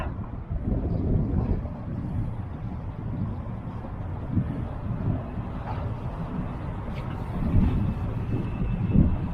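Steady wind buffets the microphone during shore fishing for sea bream in İzmir, Turkey, a continuous low roar and gusty rumble, no other clear sounds.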